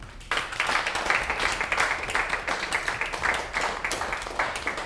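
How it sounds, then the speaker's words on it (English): Crowd applause at a baking competition grand finale for the winning blue team, a steady dense patter of many hands clapping at moderate distance, sustained throughout without a break. "Ladies and gentlemen, please give a warm round of applause"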